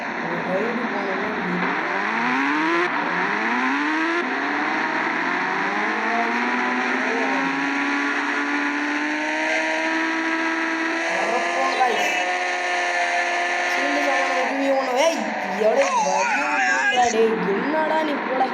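A KTM motorcycle engine in an Indian bike video game revs steadily while riding, with a continuous, loud engine whine that rises and falls in pitch throughout.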